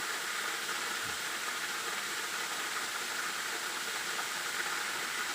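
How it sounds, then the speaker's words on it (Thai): A waterfall rushes in the distance, a faint, steady broadband hiss that holds unchanged without pauses or other sounds. "อันนี้เป็นน้ำตก"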